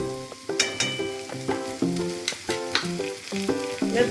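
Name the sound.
ginger and garlic paste sautéing in a pan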